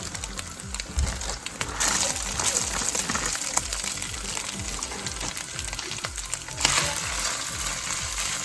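Boiled white beans stirred in olive oil in a frying pan, with a continuous close sizzle and repeated scraping strokes of a utensil, getting louder in a brief burst near the end, with no voices.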